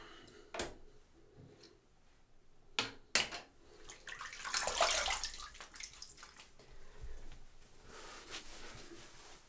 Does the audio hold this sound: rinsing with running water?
yes